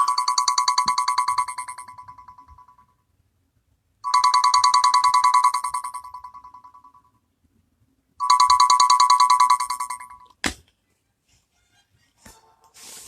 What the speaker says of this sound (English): So, phone be erupting.